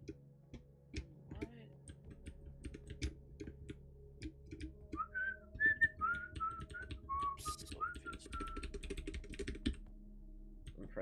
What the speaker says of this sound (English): Pressing like everything on my keyboard. Yeah, I'm clicking like everything.